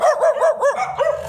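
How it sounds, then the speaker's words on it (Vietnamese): Several dogs bark together in a quick run of about five short, loud, close yips and barks. "đồng thanh sủa lên mấy tiếng."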